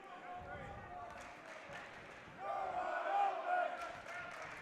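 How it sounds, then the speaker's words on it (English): A crowd at a high school basketball game heckles a player at the free throw line, a loud mass of jeering voices that swells halfway through, with a commentator talking over it. "And the crowd heckling him right now."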